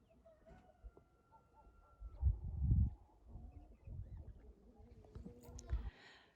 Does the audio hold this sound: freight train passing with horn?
no